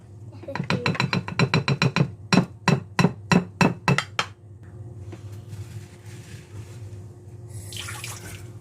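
A spoon mixing chocolate rice crispies with marshmallows in a bowl, making a run of quick rhythmic clinks and scrapes that fade into softer stirring, with a low steady hum underneath.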